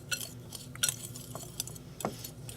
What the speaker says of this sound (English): make sure you mix it really well